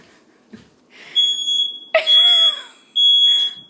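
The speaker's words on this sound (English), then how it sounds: "And the smoke alarm continues to go off." A kitchen smoke alarm set off by cooking shrills in loud repeated high-pitched beeps, interrupted once by a dog's bark in the room.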